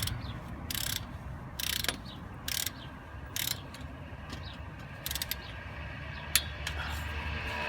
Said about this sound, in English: Go ahead and use our torque wrench again. Let's get in 18 foot-pounds.